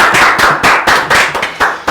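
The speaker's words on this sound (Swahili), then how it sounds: "andu acio tukorwo tukimahorera makofi" Audience applause at a television show recording, a dense wash of clapping from a crowd, loud and close, swelling and dipping in uneven bursts, with no voices over it.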